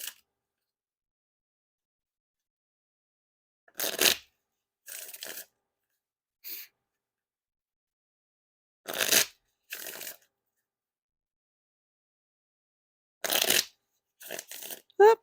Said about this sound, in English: Pretty nice riffle shuffles and bridge shuffles.